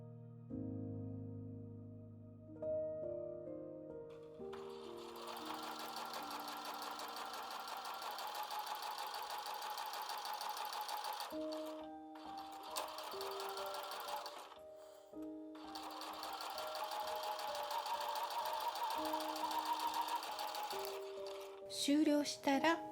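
A sewing machine runs in long steady bursts as it stitches triangular fabric panels for a small shoulder bag. Between the runs there are short pauses and a few clicks, and a voice speaks briefly over it.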